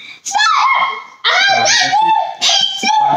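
A dog whimpers and yips in short high-pitched bursts during a family slumber party indoors, with children's voices mixed in close by.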